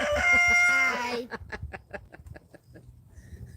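Farm chickens call nearby, a loud drawn-out crow or squawk first, then a run of short, sharp clucks at an uneven rhythm, fading into quieter background noise.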